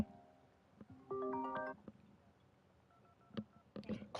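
A phone call chimes in Persona 5 Royal, a quiet electronic melody of short tonal beeps and a brief run of stacked notes, followed by a few soft clicks and blips in otherwise near silence.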